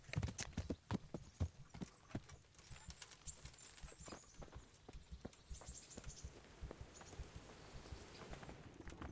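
Horse hooves clip-clop on the ground in the medieval game Kingdom Come: Deliverance, a steady walking rhythm of close, distinct hoof strikes with no talking.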